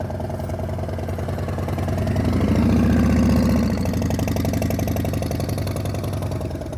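Motorcycle engine running at low speed during slow riding practice in Michigan, a steady close putter that swells briefly in the middle and then settles back.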